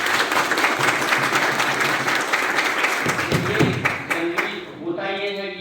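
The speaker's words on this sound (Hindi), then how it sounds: "तो आप लोगों की तरफ से एक जोरदार तालियां आपके लिए हो जाए।" An audience at an agricultural training programme gives loud, dense applause that fades toward the end, where a voice begins speaking.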